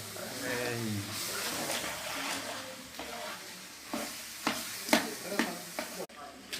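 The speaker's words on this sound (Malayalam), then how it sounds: "മസാല ഇളക്കി കൊണ്ടിരിക്കുകയാണ് നമ്മൾ" Beef biryani masala is stirred in a pot, a low sizzle under repeated knocks and scrapes of a ladle that grow sharper and more rhythmic, with voices talking at moments.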